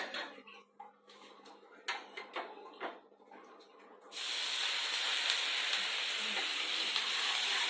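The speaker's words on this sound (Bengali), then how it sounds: "জলটা ফুটে উঠছে" Water poured onto a hot tawa while making atta kulcha bursts into a loud, steady sizzle and hiss that fills the second half, after several brief clatters and splashes.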